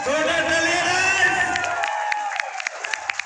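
A crowd cheers and applauds at a district bodybuilding championship prize ceremony in Goalpara, loud, dense cheering that thins out into scattered claps and whoops.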